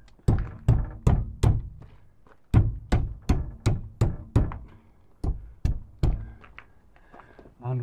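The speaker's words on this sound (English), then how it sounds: "So I'm going to push that on, knock it in" A window being knocked into place in the door of a Vauxhall Vivaro camper van conversion: two runs of close, heavy thunks, about five and eight firm knocks, with a short pause between and a few lighter taps after.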